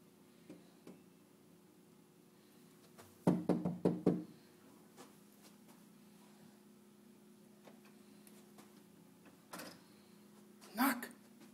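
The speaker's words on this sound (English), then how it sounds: "Knock." A burst of about five firm knocks on a door, close and fairly loud, followed by a few scattered lighter taps and a creaking sound later, with long quiet gaps between.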